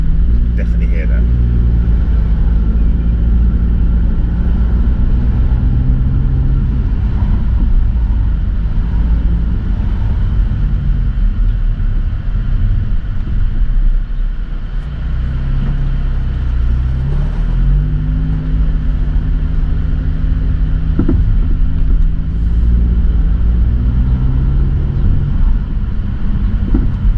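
Audi S3 driving around the block and climbing a hill, its engine a loud, steady rumble heard from inside the car, with the pitch rising and falling as it pulls and eases off.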